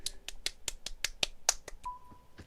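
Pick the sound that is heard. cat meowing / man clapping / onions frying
man clapping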